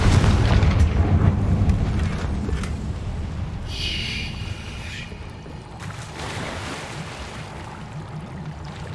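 A Confringo spell blast in Hogwarts Legacy: a loud, deep, rumbling explosion at the start that slowly decays into a long, booming roar lasting several seconds.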